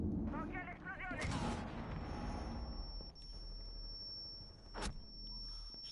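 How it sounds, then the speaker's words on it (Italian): An explosion in the video game Rainbow Six Siege bursts loudly early on, followed by a rumbling tail, a steady high tone and a later sharp crack, with a voice talking over the game audio. "Occhio all'esplosione!"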